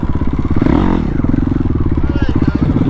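A motorcycle engine revs hard as the rider tries a wheelie on an abandoned lot strewn with rebar. A loud, close, throbbing exhaust note climbs and dips in pitch, with a brief clatter near the start.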